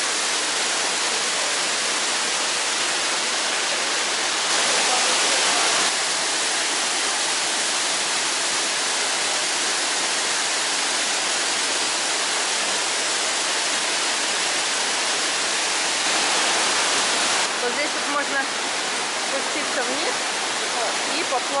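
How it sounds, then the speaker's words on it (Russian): Steady broadband roar of the waterfall crowning Sapadere canyon in Alanya, Turkey, close and loud throughout, with brief swells in intensity and a voice faintly present beneath the rushing water. "И вот этот вот водопад венчает каньон."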